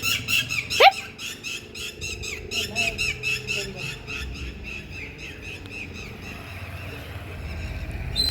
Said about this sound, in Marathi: काय ओरडते